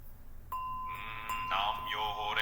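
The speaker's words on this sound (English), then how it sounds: "hit that bell again. Let it echo through your space" A meditation bell is struck a few times during Buddhist chanting practice. Its clear ringing tones sustain and echo, with later strikes layering shimmering, wavering overtones over a faint background and no speech.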